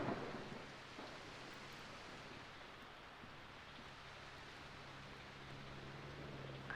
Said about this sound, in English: But I don't think I've ever had one big continuous storm like this.